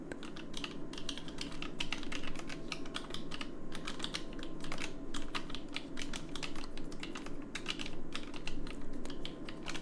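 Continuous rapid typing on an ergonomic keyboard, dense clacking keystrokes close up over a low steady background hum.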